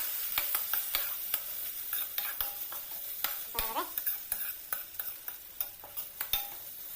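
Coriander and Kashmiri chili powder stirred in a sizzling pan, a spoon scraping and tapping in quick irregular strokes over a soft, steady frying hiss, close and fairly quiet.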